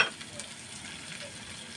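Chopped onion and green chilli fry in a pan with a steady soft sizzle and faint stirring, quiet and close, with no voices.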